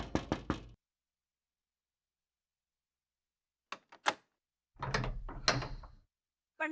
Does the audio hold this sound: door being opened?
yes